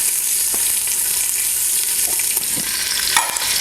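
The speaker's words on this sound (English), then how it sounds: "So we're gonna put about 1/2 cup of the balsamic glaze." Balsamic glaze going into an Instant Pot with beef over a constant loud sizzle, with a few soft clinks and small splashes of liquid hitting the hot pot.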